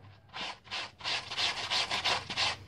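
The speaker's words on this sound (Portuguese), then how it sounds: "Deixa de molho, depois dá uma esfregadinha." Rapid back-and-forth scrubbing of fabric by hand to remove a rust stain, a steady rhythmic rubbing of about ten strokes, close and fairly loud with no talking.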